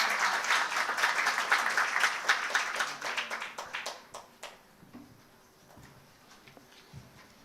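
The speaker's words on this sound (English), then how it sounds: "Massive round of applause for that." A conference audience gives a panel a round of applause that is fairly loud at first, then thins out and fades to a few scattered claps and quiet room noise.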